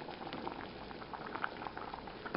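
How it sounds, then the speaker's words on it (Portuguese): Rice boiling in a pot on a home stove, a steady soft bubbling and popping that runs throughout, close and fairly quiet with no talk. "aqui o arroz já tá cozinhando"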